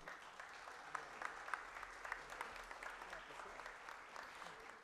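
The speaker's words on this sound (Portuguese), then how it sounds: "pedir uma salva de palmas para a nova ouvidora da Defensoria Pública recentemente eleita, Fabi Silva." Steady applause from a crowd at a human rights committee session, moderately distant, with scattered louder claps rising above a continuous patter throughout.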